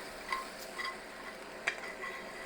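Croutons or breadcrumbs being stirred and coated in a pan, making soft scraping and gentle sizzling with a few light clicks of a utensil against the pan.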